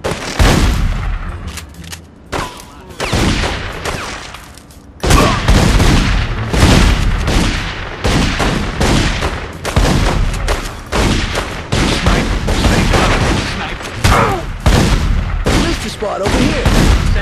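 Sustained gunfire in The Godfather 2 during a shootout in Cuba: loud, dense bursts of rapid shots and booms that continue almost without a break, with voices shouting in between.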